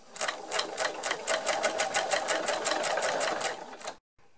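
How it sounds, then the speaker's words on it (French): Sewing machine running long basting stitches along skirt fabric for gathering, a close rapid steady needle clatter lasting about four seconds before stopping abruptly. "je couds tout le long, à grands points"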